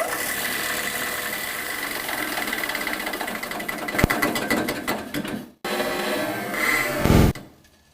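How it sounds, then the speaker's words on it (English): A grinder runs loud and steady with a harsh mechanical whine and rattle, stops abruptly for a moment, then roars back before winding down at the end. "I'll hit this green button and it should start grinding"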